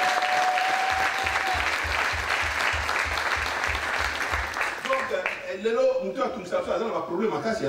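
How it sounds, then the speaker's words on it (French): A church congregation claps together, dense sustained applause that fills most of the moment before fading into voices and scattered laughter. "Können wir uns applaudieren für den Herrn?"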